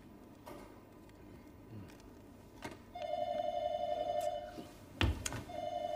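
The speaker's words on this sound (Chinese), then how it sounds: "是冰冰接电话啊？" A telephone rings in short electronic bursts in a quiet room, with a few soft knocks and a thump nearby.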